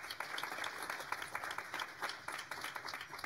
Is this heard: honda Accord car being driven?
no